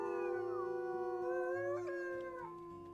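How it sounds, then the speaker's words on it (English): Several wolves in the video game WolfQuest howl together in a layered chorus, long sustained tones gliding and overlapping at close range, with a steady low ambient rumble beneath. "Let's go ahead and howl with everybody."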